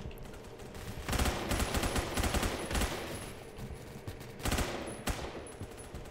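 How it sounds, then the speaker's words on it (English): Bursts of automatic gunfire rattle through a Roblox Phantom Forces battle, with two dense, loud volleys separated by quieter distant shooting and background combat noise, no talking. "I don't know if I'm actually shooting at anybody or if I'm just shooting my teammates, but I'm shooting"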